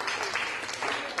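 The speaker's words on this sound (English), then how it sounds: "Clap your hands if you had a good year so far" Audience clapping in response to a request to clap for a good year, a broad steady wash of hand claps that fills the whole moment without pause.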